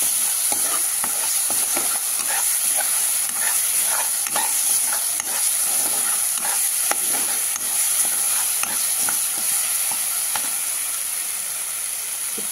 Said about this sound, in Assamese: এই আছাক এখিনি ভাজি হৈ গ'ল